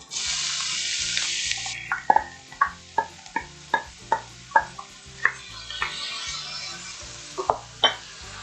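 Onions sizzling in hot olive oil for a Turkish bean dish, a steady bright hiss broken by a run of regular stirring scrapes and clacks close by, with no talk.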